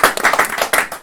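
Close, dense audience clapping from a West End playhouse crowd, brisk and continuous for a short burst, loud and alone.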